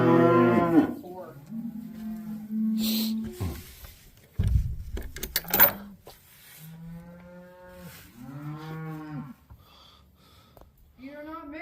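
Cattle in a corral moo repeatedly during calf sorting, several long drawn-out calls spread across the stretch, with people talking nearby between and over them and some thumps of gates or handling.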